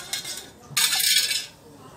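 A spoon clinks against a glass while stirring Rooh Afza and sugar into a drink, a couple of short close metallic scrapes and taps with no talking.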